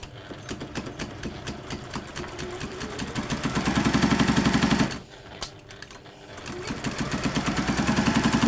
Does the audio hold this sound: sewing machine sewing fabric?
yes